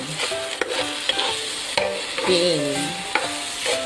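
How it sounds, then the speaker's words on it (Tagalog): Pork sizzles in a hot pan while a utensil stirs it, with scraping clinks at irregular intervals over a steady frying hiss and no talking. "So, ginigisa natin ang pig."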